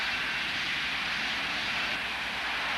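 A Great Planes AV-8 Harrier model jet hovering on throttle: a steady, loud, continuous jet whine and roar with no breaks, heard from nearby.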